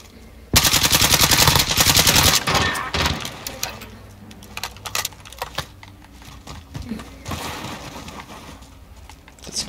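Amax rifle fire in Call of Duty Modern Warfare Search and Destroy: a loud rapid burst of automatic shots, then shorter bursts and single cracks scattered at a distance.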